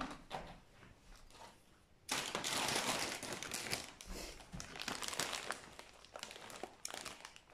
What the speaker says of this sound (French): Un paquet de chips Lay's saveur fromage, donc là c'est le paquet de 370 grammes.